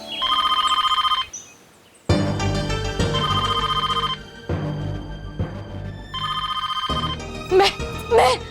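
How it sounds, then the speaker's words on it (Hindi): A telephone rings in repeated electronic trilling bursts separated by short pauses, loud and close, with a voice speaking over the later part. "महर का फोन होगा"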